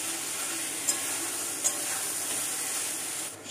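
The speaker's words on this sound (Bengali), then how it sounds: "ভেজে রাখা আলুটা আমি এর মধ্যে দিয়ে দিলাম।" Fried potatoes tumble into a pan of sizzling yogurt and Kashmiri chilli masala, giving a steady, close frying hiss with two sharp clinks of stirring, and no voices.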